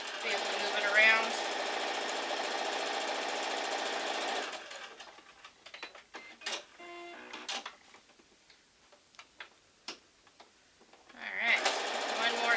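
A sewing machine stitches a quilt block for 10, a continuous loud run for about four and a half seconds, then quiet fabric handling and clicks, and a second short burst of stitching near the end.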